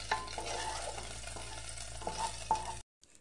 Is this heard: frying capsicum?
yes